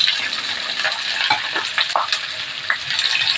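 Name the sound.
onions sautéing in a pan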